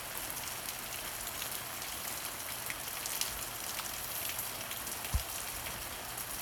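Steady rain falls outdoors, a continuous soft hiss of drops on surfaces with a couple of small nearby taps and no voices.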